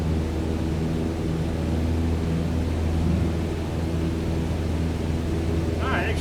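A propeller aircraft engine in Microsoft Flight Simulator 2020 drones loudly and steadily with a low rumbling hum, the revs lifting slightly, joined by a brief short tone near the end.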